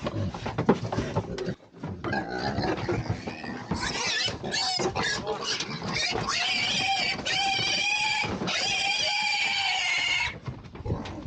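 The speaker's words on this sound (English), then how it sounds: "They're all pretty nice little pigs. Some of them are noisier than others." Pigs at a hog farm grunt and then let out loud, drawn-out squeals in several long bursts, heard close up with a few brief gaps between them.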